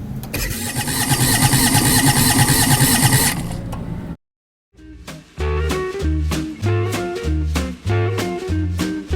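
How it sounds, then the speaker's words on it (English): Toyota FJ62 engine cranking after its seized rocker shaft was freed: a loud burst of noise, a brief silence, then a rhythmic, pulsing starter churn repeating close by. "Let's do a little more cranking."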